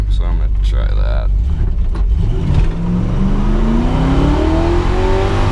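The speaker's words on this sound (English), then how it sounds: "if I spun the tires just a little before I took off, like did kind of a little burnout" A Camaro with a rebuilt engine revs hard and launches after a small burnout, the engine note climbing steadily in pitch as the car pulls away, loud and close.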